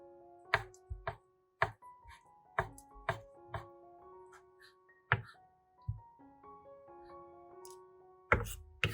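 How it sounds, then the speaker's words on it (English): A knife chops shiitake mushrooms into thin strips on a cutting board, giving a series of sharp, close thunks at an uneven rhythm, with a background tune running underneath. "Cut the mushrooms into thin strips."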